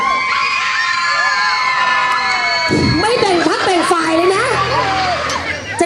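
A crowd of excited voices shrieks and cheers together, loud and close, with high-pitched squeals rising over the din.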